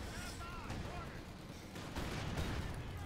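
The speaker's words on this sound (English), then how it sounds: "Lots of shots going through there, but not enough." Dense gunfire and artillery from a Company of Heroes 2 match, German Wehrmacht against US forces, a steady clatter of overlapping shots and blasts that stays loud throughout, with a commentator's voice mixed underneath.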